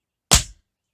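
A single tap dance stomp lands as one short, close thud of a tap shoe striking the floor, then dies away into silence.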